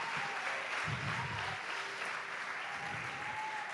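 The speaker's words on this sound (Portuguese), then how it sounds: "Pode aplaudir a Ele," A church congregation applauds during a sermon in a continuous, fairly soft wash of clapping with a few low thumps near the start.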